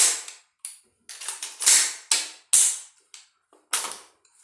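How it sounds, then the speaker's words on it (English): An ALG Advanced Combat Trigger in a PSA 10.5-inch AR upper is dry-fired and reset, producing about nine sharp, crisp metallic clicks spaced irregularly, close and clear with silence between. "The trigger is an ALG."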